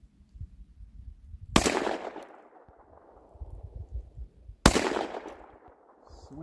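Panzer EG200 shotgun firing Winchester target game loads, two loud close blasts about three seconds apart, each with a ringing decay, over low background rustle.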